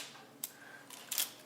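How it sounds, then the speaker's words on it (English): An Olympus OM-2n film SLR fires its shutter at 1/15 second in manual mode, giving a quiet click, a short pause, then a second sharper click and a brief mechanical whir, close and alone. "If I put it in manual, the 15th should sound like this."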